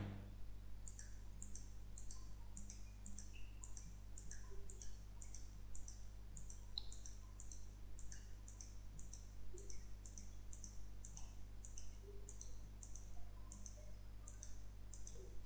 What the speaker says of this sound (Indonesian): Jadi saya klik, selanjutnya saya klik terus sampai banyak ya.